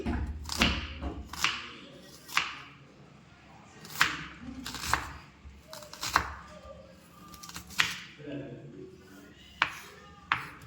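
A kitchen knife chops a large onion into small pieces, giving about a dozen sharp, fairly regular strikes on a cutting board, close and distinct, with a voice faintly underneath.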